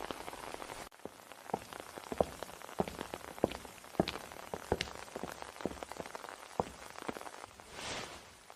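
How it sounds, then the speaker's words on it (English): Steady rain falls on a surface, with scattered sharp drops pattering in an irregular rhythm, close and moderately quiet throughout, with no voices. "A little rain won't hurt."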